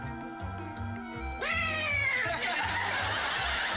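Cat meowing in the Hale and Pace cat-in-the-microwave comedy sketch, several drawn-out harmonic meows rising and bending over a steady musical backing, with a loud wailing caterwaul near the end.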